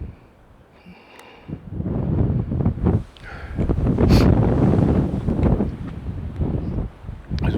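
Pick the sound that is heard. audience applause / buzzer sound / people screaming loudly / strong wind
strong wind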